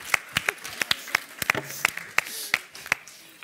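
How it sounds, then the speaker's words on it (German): Scattered, sparse handclaps from a studio audience at a live lesbian salon show welcoming a guest named Manuela, a dozen sharp separate claps in an uneven rhythm rather than full applause, with faint background murmur. "Deswegen lass uns Manuela mit einem großen Applaus."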